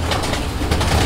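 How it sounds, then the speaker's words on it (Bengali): A yellow king pigeon gives a brief, low, throaty coo, close by and fairly loud, lasting about a second. "আর এটা হচ্ছে হলুদ কালারের কিং কবুতর।"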